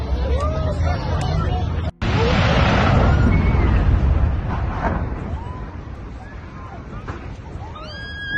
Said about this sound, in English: Gas station explodes in Grozny, Chechen Republic.